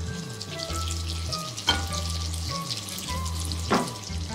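Meat patties fry gently in a pan, a steady soft sizzle that runs throughout with a couple of brief clinks, while a low humming tone rises and falls underneath.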